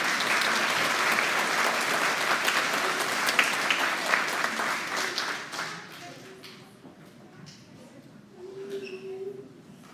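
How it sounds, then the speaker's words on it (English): Applause rings out at a pre-K to second grade school awards ceremony, lively clapping for several seconds that thins out and fades, leaving scattered claps and faint voices in the room. "one more round of applause for our positivity"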